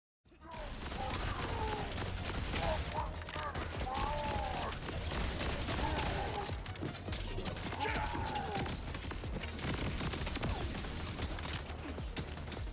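Rapid, sustained gunfire from the video game Borderlands 4, dense bursts of shots and clattering mechanisms over nearly thirteen seconds, with game voices and effects woven underneath.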